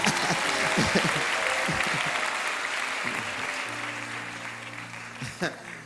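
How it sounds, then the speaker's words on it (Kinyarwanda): Loud, dense applause from a church congregation fills the space, sustained and gradually easing off, with a few louder claps near the end. "Amashyi menshi ku Mana yacu."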